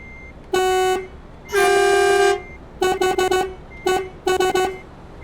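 Iveco truck in Euro Truck Simulator 2 sounding a series of electronic horn-like tones: a short blast, a longer held one, then two clusters of rapid stuttering beeps, loud and close with no talking.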